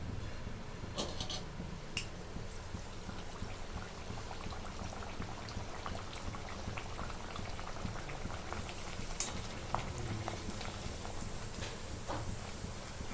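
Puri deep-frying in hot oil in a kadhai, giving a steady dense bubbling sizzle that runs unbroken throughout, close and even, with occasional faint clicks over it.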